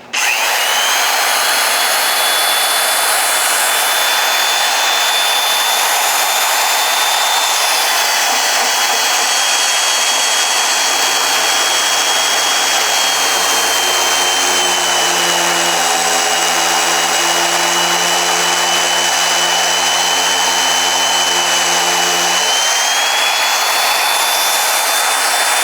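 A magnetic drill boring a 5/8-inch hole through 3/16-inch steel plate, a loud continuous motor whine running throughout, with a lower grinding cutting tone joining midway for about ten seconds before easing off.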